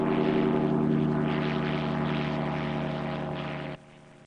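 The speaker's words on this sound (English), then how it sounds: "A U.S. drone buzzing skyward from an American base on an unknown mission abroad." A US military drone flies from an American base, its engine a steady, loud propeller drone with a constant tonal hum that holds evenly for several seconds before cutting down sharply near the end.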